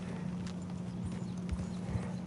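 Horse hooves clip-clopping in Red Dead Redemption 2, a quiet, steady run of soft hoofbeats over low background hum, with no talking.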